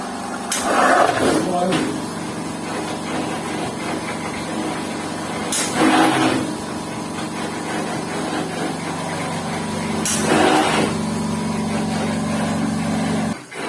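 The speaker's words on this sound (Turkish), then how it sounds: "Makine belirli süre aralıklarla içeriye hava basarak havayla birlikte peteklerin içerisindeki kiri artmaya çalışıyor" A radiator flushing machine runs with a steady mechanical drone while cleaning home heating radiators, and three louder bursts of forced air break through at intervals.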